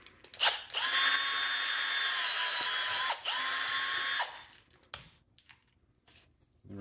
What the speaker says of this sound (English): then we're gonna switch over to the bigger bit, 5/16. Okay, we're gonna enlarge it.